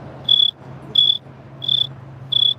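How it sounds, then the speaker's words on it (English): A large cricket gives four loud, evenly spaced chirp bursts close to the microphone. A faint low hum runs underneath, and no one speaks. "Sorry if that's loud, guys. It's my cricket."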